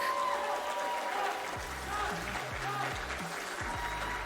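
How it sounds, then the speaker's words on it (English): Audience at a live speedrun marathon event applauds, with clapping heard throughout at moderate level and talk over it. "Everybody, please continue the applause for Moist Rock."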